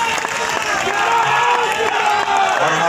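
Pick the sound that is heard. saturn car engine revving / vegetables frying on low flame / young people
young people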